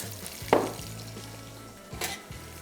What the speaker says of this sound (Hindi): और इसकी हो गई फ्राइंग शुरू।